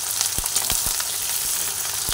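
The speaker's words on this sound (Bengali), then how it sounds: "পেঁয়াজ ভাজা হবে কিছুটা" Chopped onions fry in a hot pan with a steady, close, crackling sizzle, punctuated by a few soft knocks of stirring.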